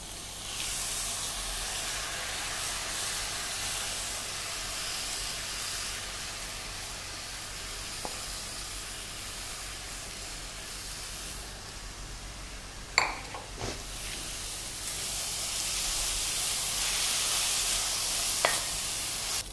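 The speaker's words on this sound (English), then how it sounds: "Now let's add the soaked rice to the pan and saute it well." Soaked rice sautés in a hot pan with a continuous sizzling hiss, broken by a few sharp scrapes and clinks as it is stirred, growing slightly louder toward the end.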